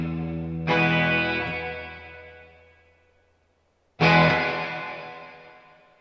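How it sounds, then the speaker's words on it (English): Two loud strummed electric guitar chords through a Quilter 101 Reverb Mini Head amp with the reverb turned way up, each ringing out in a long washy tail that decays over a few seconds, with silence between. "This is too much reverb, but let's go ahead and hear what it sounds like"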